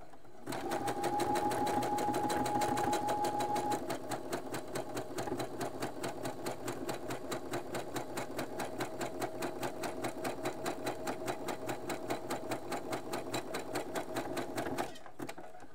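A sewing machine stitches elastic onto menstrual underwear, running close and steady in a fast, even whir with a rapid mechanical rhythm for about fifteen seconds. A faint whine at the start shifts slightly after a few seconds, and no one talks.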